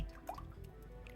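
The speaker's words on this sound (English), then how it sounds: "we pour the oil in the pan that we are going to use in frying it." Frying oil dribbles into a pan for akara in a brief, quiet pour with a soft liquid drip and squish, close by.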